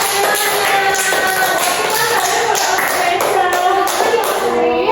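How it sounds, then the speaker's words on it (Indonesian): Children in a classroom clap together for a steady stretch, the dense rapid claps mixed with excited young voices and chatter throughout, close and fairly loud. "Kita berikan tepuk tangan dulu buat kita."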